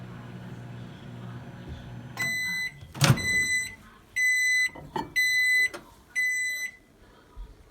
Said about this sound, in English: put a little bit of water in there and put it in the microwave